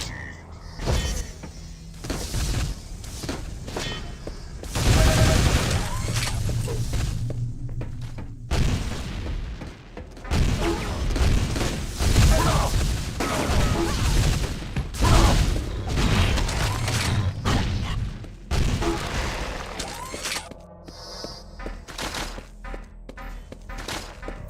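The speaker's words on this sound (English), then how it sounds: "Oh, maybe he's shooting at him." Gunfire and explosive booms from the virtual-reality shooter Quake 3 VR: loud, dense bursts of weapon fire and impacts that come in repeated waves, with brief lulls between them.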